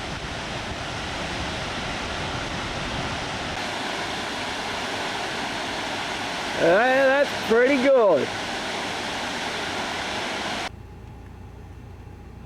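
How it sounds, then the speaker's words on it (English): Bloomfield Falls, a waterfall on the Bloomfield track, roars as a steady broadband rush of water throughout, while a person speaks briefly partway through and a sharp, rising chirp or squeal cuts in near the middle. "Now that's a waterfall. It's Bloomfield Falls."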